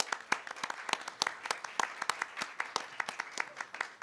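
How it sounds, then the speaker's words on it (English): Round of applause for congregation volunteers at a winter church congregational meeting, steady scattered hand clapping from a room of people, moderately faint and continuous without talk. "let's give everybody a round of applause"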